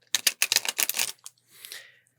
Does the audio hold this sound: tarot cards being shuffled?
yes